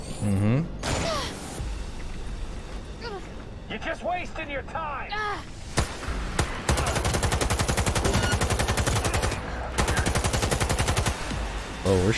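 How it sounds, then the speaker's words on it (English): Sustained gunfire in the video game Cyberpunk 2077: rapid automatic bursts rattle loudly and steadily, broken by short pauses, with metallic clanks and mechanical sounds between volleys. "Shooting"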